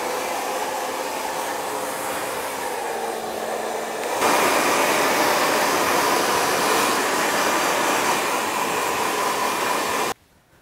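A hair dryer blow-drying short textured hair roars steadily and loud for about ten seconds, stepping up to a higher, stronger setting partway through before cutting off abruptly.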